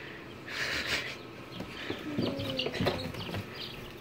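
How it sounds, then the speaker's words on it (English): Chicks clucking and peeping in a farm setting, a few short, high, chirpy calls close by, fairly quiet, alongside some rustling and no clear speech. "Tristan, you're giving the chicks a heart attack."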